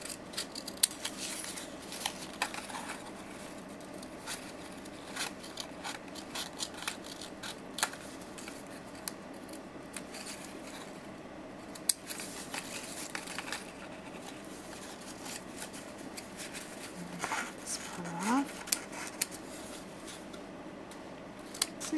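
Scissors work through paper while scaled doughnut shapes are cut, giving a long stretch of small, irregular snips and crisp clicks at close range. The sound stays moderately quiet over a faint background hiss.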